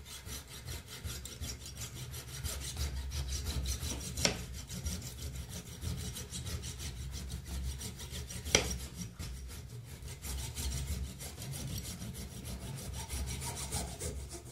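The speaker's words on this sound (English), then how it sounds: "So the lock is clamped in the vise and here I am with my saw" A hand saw cuts into a plastic lock housing clamped in a vise, giving a steady, even back-and-forth rasping rhythm that runs throughout at moderate, close volume with a couple of sharp clicks along the way.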